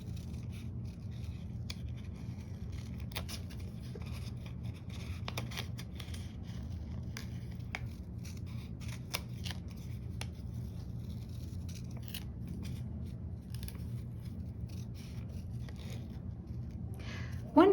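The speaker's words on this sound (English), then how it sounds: "it's good to have a pair of sharp scissors" Scissors snip steadily and closely, with soft rustling and crinkling, over a constant low background hum.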